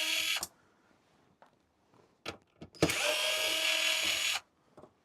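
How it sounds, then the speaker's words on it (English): An electric screwdriver takes screws out of an electronic device's shell. It gives a short whir, then after a pause some small clicks and a longer whirring run of more than a second, close and with no talking. "I'm just going to take all the screws out."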